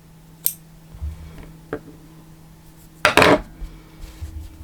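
A few quick, crisp snips of scissors cutting crochet yarn close to the work, including a sharp double cut near the end, with quiet pauses between.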